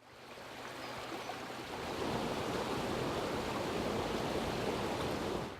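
Water spills over small cascades into a recreated wetland at Lac d'Aydat, a steady close rushing wash that grows a little louder after a couple of seconds and continues evenly with no voices.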